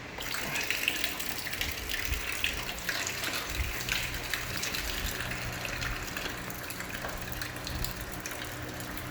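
Coolant drains from a BMW N51 engine after a radiator hose is pulled off, a steady gushing, splashing pour of liquid heard close and continuous throughout.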